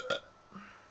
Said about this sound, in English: KFC burp.